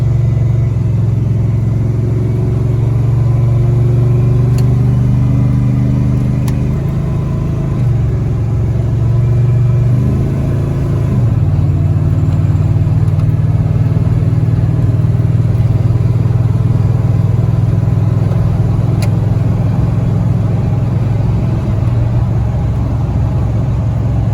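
A steady, low engine drone and road rumble from inside a second-generation Dodge Ram 1500 pickup with a Magnum V8 stroker engine and homemade exhaust, windows closed, cruising on a highway at constant speed, unbroken throughout.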